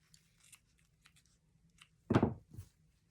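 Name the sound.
scissors trimming tulle on felt angel ornament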